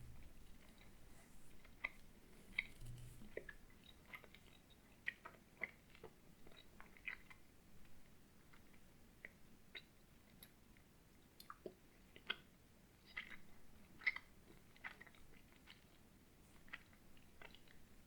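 Someone chews a sticky Quality Street sweet right up against a close ASMR microphone, making soft, wet, clicking mouth sounds in an irregular rhythm, faint and without talking.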